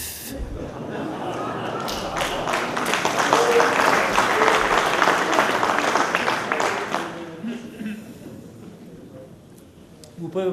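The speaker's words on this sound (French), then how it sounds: "Vous ne pouvez pas applaudir un peu plus longtemps" Audience applause at a French business association's 2014 general assembly conference, dense clapping swelling loud through the middle and then thinning out, with a few voices near the end.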